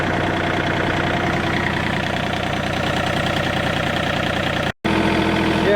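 A John Deere 3025e compact tractor drones steadily as its diesel engine labours while plowing dirt, a constant loud close-up rumble with one brief dropout near the end.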